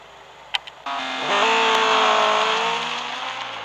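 A car in the racing game Real Racing 3 revs up and accelerates hard, a loud, rising engine whine that holds steady after a couple of brief clicks, with no talk.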